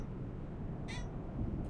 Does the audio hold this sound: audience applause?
no